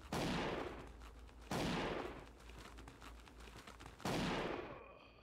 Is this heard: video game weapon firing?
yes